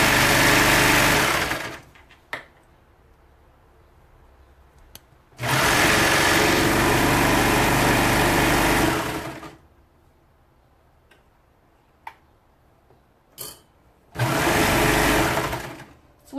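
A sewing machine runs in three bursts of steady, fast stitching, each lasting a few seconds, with quiet pauses and small clicks in between.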